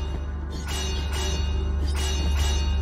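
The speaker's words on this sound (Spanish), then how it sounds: "Que le zurra a esa campana." Game bell in Blasphemous, hit by a swinging chain, ringing with repeated resonant metallic strikes about every half second over a steady low rumble of ambient game music.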